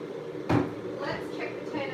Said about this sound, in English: Okay, so drawer can go back in.